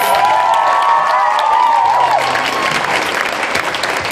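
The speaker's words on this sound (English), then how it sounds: "Let's give Mandy a round of applause for surviving 7 years." An audience at an event honoring a seven-year survivor gives loud, sustained applause with cheering and a high whistle early on, filling the whole stretch.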